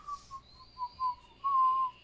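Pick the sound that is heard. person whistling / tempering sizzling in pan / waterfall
person whistling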